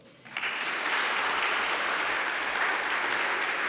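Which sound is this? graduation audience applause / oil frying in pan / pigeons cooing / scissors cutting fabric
graduation audience applause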